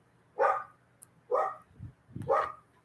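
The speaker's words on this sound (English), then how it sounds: "I don't know if you can hear that dog in the distance, but it drives her crazy when he's out." Three faint barks from a dog in the distance, evenly spaced about a second apart, with soft low thuds between them in a quiet setting.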